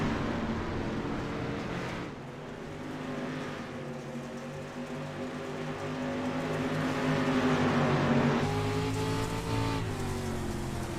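Street stock race cars roar around the Volusia track, a steady loud engine drone with rising and falling pitch as the pack accelerates and passes, swelling louder toward the end.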